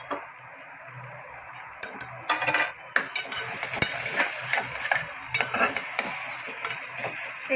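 Chopped bottle gourd frying in a pan with salt and turmeric, a bright sizzle under repeated spoon scrapes and stirring clatter, close and fairly loud.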